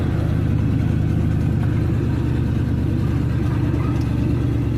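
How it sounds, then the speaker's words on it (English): A pickup truck's engine idles in a driveway, a loud, close, even low rumble that holds steady throughout with no voices. "It's still running real good."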